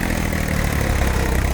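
A tractor engine idles nearby in a steady, loud, unbroken rumble with a heavy low throb and no pauses.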